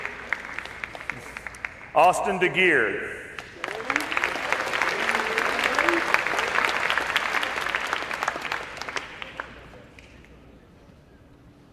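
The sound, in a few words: audience applause for student athletes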